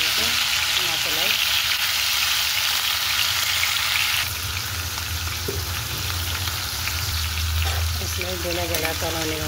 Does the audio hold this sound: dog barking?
no